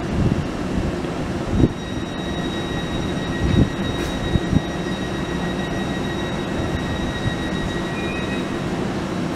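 Train at Morpeth station bound for Newcastle, a steady rolling rumble with a few thuds and clanks and faint high tones, moderately loud and close, with no voices.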